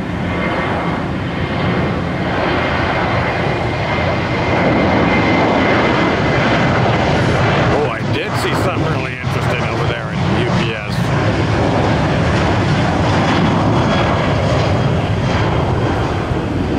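A UPS MD-11 jet airliner takes off at Tampa airport, its engines a loud, sustained roar that holds steady throughout, with people talking faintly beneath it.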